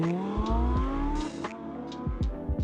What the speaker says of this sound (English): This latest 911 Turbo S is the fastest and most powerful one yet, now with 650 horsepower.